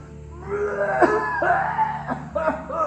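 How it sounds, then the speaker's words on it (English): A man coughs several times in harsh, wet bursts, close by, with brief pauses between them. "serious cough, my friend."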